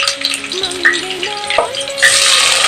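Green chillies and onion sauté in a hot pan for biryani, a steady close sizzle with stirring scrapes and a brief whistling tone, growing brighter toward the end.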